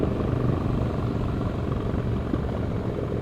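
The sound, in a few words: motorcycle engine while riding in the Catskills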